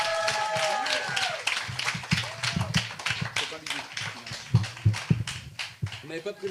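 Audience applause greets a speaker invited on stage at a talk, scattered claps running throughout, mixed with voices and shuffling.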